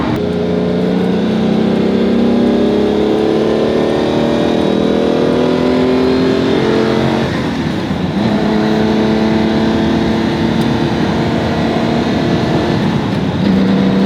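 Lamborghini Countach 25th Anniversary engine heard from inside the cabin while driving, a loud, steady roar with harmonic tones that climb and fall through gear changes, continuous and close.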